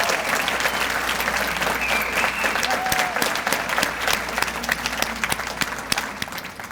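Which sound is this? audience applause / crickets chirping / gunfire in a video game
audience applause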